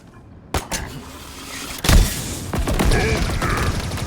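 Ravager weapon fire in Halo Infinite: a sharp burst near the start, then a heavier blast in the middle, followed by sustained rumbling, crackling combat noise.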